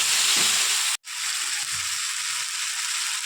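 Ground ginger, cumin, chilli and garlic paste frying with onions for a Bengali fish dish, a steady, hissing sizzle that stops briefly, then carries on evenly.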